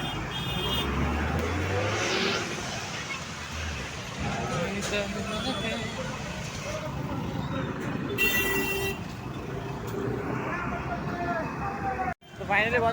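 Road traffic near a hilltop temple on a Karla Devi and Ganpati pilgrimage in Pune: a continuous rumble of passing cars and engines with a couple of horn toots, under steady talk by people close by.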